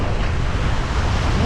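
Steady ocean surf washes continuously, mixed with rushing wind noise buffeting the microphone; no distinct voices stand out.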